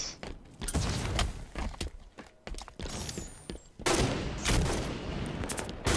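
Rapid gunfire in the Halo 5 video game, loud bursts of sharp repeated shots in clusters with short gaps, then a sustained heavy barrage of overlapping fire toward the end.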